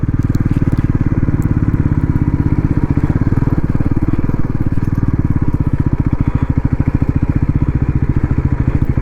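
A motorcycle engine runs steadily and loud close by, a continuous low throbbing idle with some rattling clatter as the bike is parked beside a temple near Channapatna, with no talk over it.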